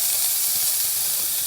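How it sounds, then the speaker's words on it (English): Steam wand of an Elektra espresso machine blasting after a full tune-up, a steady loud hiss with a faint rumble underneath, continuous throughout the short burst. "Let's run some steam."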